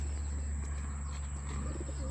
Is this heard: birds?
yes